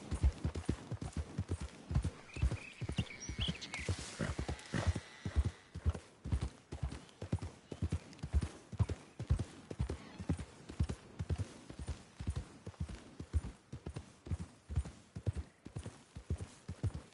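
Steady clip-clop of horse hooves in a PS4 video game, a regular galloping rhythm throughout, loud and close, with a brief whinny near the start.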